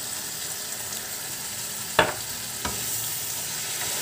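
Cooked taro leaves (kochu shak) stirred in a frying pan, a soft continuous sizzle with two sharp scraping clacks of the spatula, close and steady with no talk.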